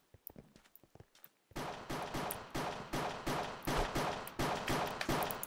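MP5 gunfire in the Minecraft mod Cops & Crims: rapid shots fired in a steady rhythmic series of sharp cracks, loud and close, after a few scattered quieter pops.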